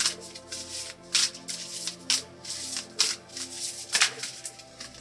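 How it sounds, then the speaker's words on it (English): Tarot cards are shuffled by hand close up in irregular bursts of soft riffling and slapping, quiet and alone. "I'm going to shuffle this deck and see what else we can learn about this next relationship"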